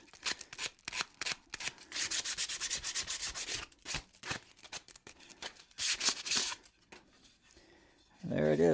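Hand sanding of a wooden table saw push stick, a brisk series of rough rubbing strokes in bursts with short pauses between them, close and fairly loud, followed at the end by a brief low voice.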